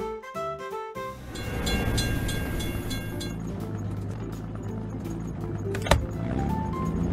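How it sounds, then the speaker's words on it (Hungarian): A toy-style train passes a railway crossing on a children's construction-vehicle cartoon, opening with a bright melodic chime, then a steady rolling rumble of cars with a sharp clank near the end. "Itt jön a vonat."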